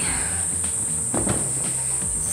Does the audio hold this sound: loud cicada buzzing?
yes